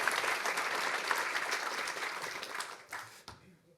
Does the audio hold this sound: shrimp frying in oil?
no